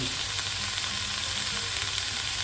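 Chicken stir-frying with red curry paste in a hot pan, a loud, dense, continuous sizzle with faint stirring scrapes underneath. No one speaks.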